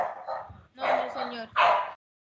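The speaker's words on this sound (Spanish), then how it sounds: "estoy compitiendo con el perro de Paola" A dog barks over an online meeting microphone, a few loud close yips and barks in quick bursts separated by short pauses.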